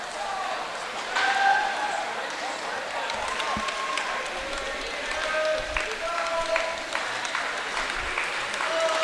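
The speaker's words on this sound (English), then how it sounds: "Lots of applause here for Lucas to finish this one up" Spectators at a high school boys' swim meet applaud a swimmer finishing a long race, steady moderate clapping echoing in a pool hall, with whistles and voices mixed in.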